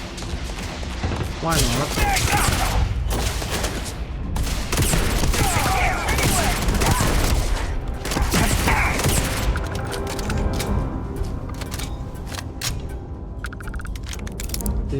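Magpulse gun firing in the sci-fi game Starfield, rapid mechanical bursts and clattering shots fill the mix for several seconds before easing into whirring, ratcheting machinery, with a brief spoken line early on.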